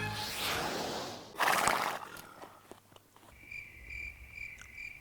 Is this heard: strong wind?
no